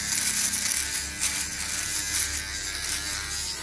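A Panasonic electric shaver from Japan runs steadily nearby. Its bright, continuous buzz wavers slightly in strength and plays alone, with no voices.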